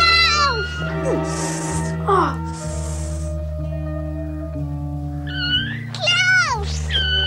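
A kitten meows repeatedly in high, wavering cries over a sustained musical score in a film scene, with children's voices heard faintly at times between the calls.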